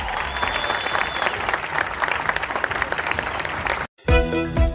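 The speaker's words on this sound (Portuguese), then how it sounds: "parabéns às mulheres da Nissan, que merecem um aplauso especial." Loud audience applause, a dense sustained burst of clapping that ends abruptly and gives way to a different, musical sound.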